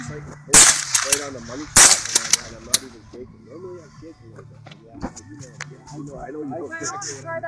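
Sharp M14 rifle shots ring out against steel plate targets outdoors, two loud cracks early with a few smaller impacts after, while someone talks throughout.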